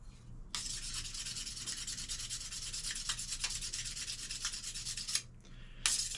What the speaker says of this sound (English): you're going to want to go back to your belt sander and take those flat spots out